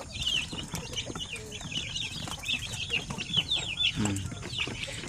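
Baby chicks in a pen peep constantly in overlapping high chirps, close and lively, with a few soft low bumps beneath.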